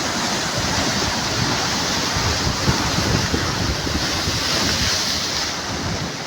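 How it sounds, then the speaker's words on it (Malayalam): Sea waves rolling and crashing onto the shore below a coastal fort in Kerala, a loud continuous roar of surf mixed with wind buffeting the microphone, with no voices. "നല്ല തിരയാണ്. ഇനിയിപ്പം കാറ്റ് അടിക്കാൻ തുടങ്ങും. അപ്പോൾ തിര കൂടും."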